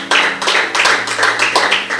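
Church congregation clapping during a Thursday service, a roomful of hands in bright, fairly loud bursts forming a loose repeating rhythm over two seconds.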